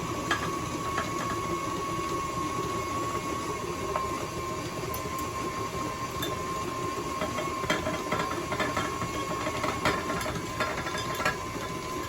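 An electric mixer runs on high, beating flour into low-carb, gluten-free soul cake dough. The whir is steady and close for the whole stretch, with bursts of rattling clatter as the crumbly mixture is churned.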